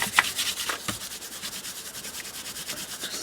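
Glue stick residue being rubbed off paper on a handmade Christmas ring-bound journal: a steady, rapid run of short, dry, close-up rubbing strokes, fairly quiet and with no voices.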